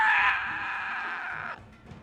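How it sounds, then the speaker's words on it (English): An unearthly screeching scream rising from downstairs, a shrill sustained shriek that holds steady for about a second and a half, then cuts off, leaving a faint low rumble. "You hear this unearthly sort of screeching scream"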